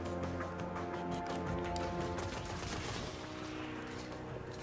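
Enemy weapons fire in the video game Destiny as a dense, continuous rattle of shots mixed with explosive crackle, loud and sustained over a droning game soundscape.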